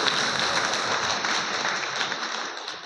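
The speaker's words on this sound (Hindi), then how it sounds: "तालियां, जोरदार तालियां" Loud applause from a crowd at a community convention in Sardarshahar, a dense continuous clatter of many hands clapping close by, tapering slightly at the end.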